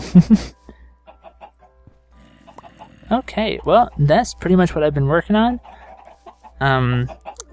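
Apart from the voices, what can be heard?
chickens clucking in Minecraft Feed the Beast chicken farm, video game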